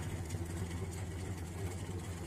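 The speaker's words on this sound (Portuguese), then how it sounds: "Deixa eu manobrar o motor aqui pra pegar melhor ela" Boat motor maneuvering on the Dourados River in Mato Grosso do Sul, a steady low engine drone and rumble, close and continuous throughout without voices.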